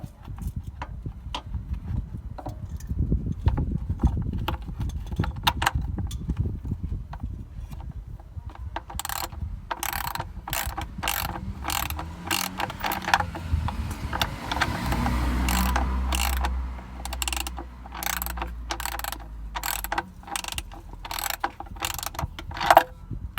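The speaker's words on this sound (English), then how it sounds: "Now I'm just going to put the bolt back on again." A hand ratchet clicks in quick, repeated bursts while an oil drain bolt is threaded back in under a Mercedes E 300 hybrid, close and crisp, with a low hum of handling noise between strokes.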